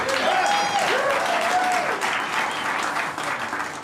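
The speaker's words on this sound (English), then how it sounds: "You better applaud" Audience applause at a Monday night live music show, a steady dense wash of clapping from a full room with a few whoops rising over it.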